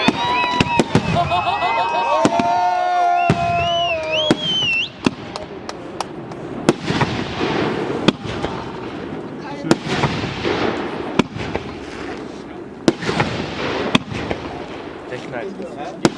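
Wedding fireworks burst at a celebration in Wendhausen, a long series of sharp, loud bangs and crackles at irregular intervals, with whistling rockets rising early on and people talking between explosions.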